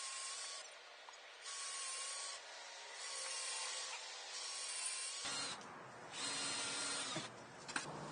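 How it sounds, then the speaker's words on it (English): Power drill boring holes into a log for shiitake mushroom dowels, a steady whining drone in repeated bursts of several seconds, close and fairly loud, with short pauses between holes and no talking. "Okay, so our holes are drilled."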